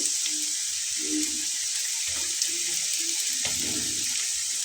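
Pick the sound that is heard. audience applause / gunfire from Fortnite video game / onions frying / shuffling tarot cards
onions frying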